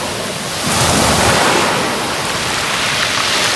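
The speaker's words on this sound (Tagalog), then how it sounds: "Hampas ng alon" Waves crash on the shore at Lingayen Baywalk in Pangasinan, a loud continuous surf wash that swells to a stronger break about half a second in and then rolls on steadily, with no talking.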